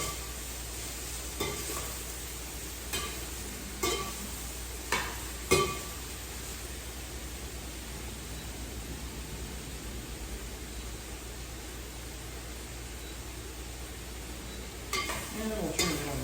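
Sweet potatoes sizzle in a pan with a steady hiss while a utensil scrapes through them in a few distinct stirring knocks near the start and again at the close.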